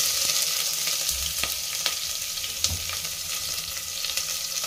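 Onion dropped into hot oil with mustard seeds fries with a dense, continuous sizzle and faint crackles, close up and steady throughout.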